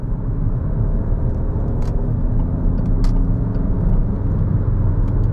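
A Peugeot 5008 1.5 BlueHDi diesel SUV engine drones steadily at low pitch while accelerating after a downshift from sixth gear, a continuous rumbling drive with no sharp revving peaks, fairly loud and close throughout.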